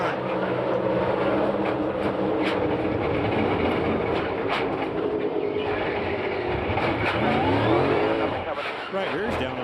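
NASCAR Cup Series cars racing at EchoPark Speedway Atlanta, a dense, constant engine roar with rising and falling whines as cars pass, loud throughout with commentators talking over it.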